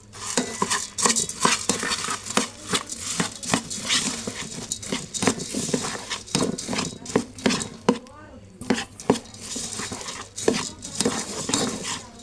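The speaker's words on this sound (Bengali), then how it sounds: "এভাবে খইটা দিয়ে আমি এখন নাড়াচাড়া করব" Puffed rice is stirred through melted date-palm jaggery in a pot, making a busy run of scraping, rustling strokes and light utensil clinks in an uneven rhythm, close by.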